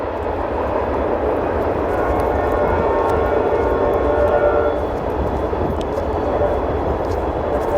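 A train rolls along railroad tracks at Big Beaver Wetlands in Beaver County, PA, giving a steady, loud, close rumble that holds level throughout with no breaks.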